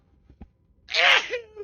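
A single loud, sharp sneeze bursts out close to the microphone after a quick intake of breath, during a MechWarrior 5: Mercenaries gaming session.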